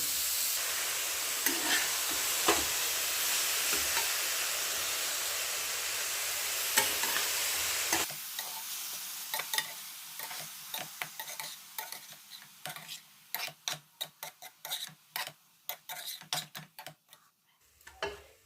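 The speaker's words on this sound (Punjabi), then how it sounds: "ਹੁਣ ਆਪਾਂ ਇਹਨੂੰ ਮੀਡੀਅਮ ਜੇ ਸੇਕ ਤੇ ਆਪਾਂ ਇਹਨੂੰ ਭੁੰਨਾਂਗੇ" Chopped amla roasts in a pan over medium heat: a dense, hissing sizzle for the first half gives way to sparse, sharp stirring scrapes and taps, close and moderately quiet.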